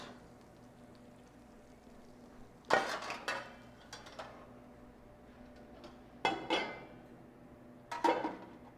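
A cooking pot set out in a kitchen, heard as a few separate metallic clanks and rattles, one cluster early and two more later, each ringing briefly over a quiet background hum.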